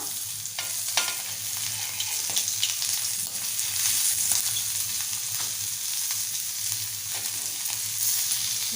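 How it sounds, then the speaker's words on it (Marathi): Small mandeli fish fry crisply in a pan with a steady, dense sizzle that runs unbroken throughout, close and fairly loud, with faint scraping touches as the fish are turned and no one talking. "आता आपण फिरवून दुसरी साईड ही फ्राय करून घेऊया"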